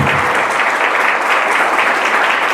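A church congregation claps loudly and continuously during a worship service, producing a dense, even roar of applause from the nearby crowd that holds steady throughout.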